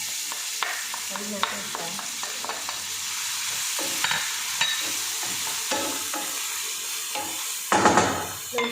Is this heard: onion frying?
yes